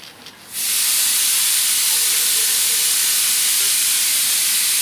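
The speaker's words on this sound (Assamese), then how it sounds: "সেয়া প্ৰেছাৰ মাৰিছে," A pressure cooker cooking leafy greens on a home kitchen stove lets out its whistle, a loud, sustained, close hiss of escaping steam. It bursts in abruptly after a quiet half-second and carries on steadily to the end.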